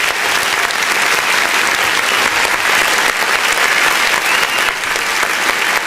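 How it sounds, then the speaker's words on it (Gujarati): A crowd at an International Women's Day celebration in Vadtal, Gujarat bursts into sustained loud applause, thick steady clapping that fills the room for several seconds without a break. "તો ચાલો તાળીઓના ગટગટાટ સાથે આપણે બધા એકબીજાને વધાવીએ."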